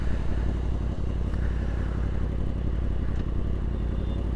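A Yamaha R1S motorcycle rides at night with a steady low engine rumble and road noise, fairly close and continuous, with a faint clatter and no talk.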